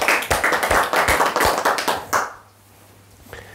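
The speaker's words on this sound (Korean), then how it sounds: "큰 박수 부탁드립니다." An audience at a Buddhist teaching session gives a short burst of close, crisp hand claps that stops abruptly after about two seconds, leaving near silence with a faint hum.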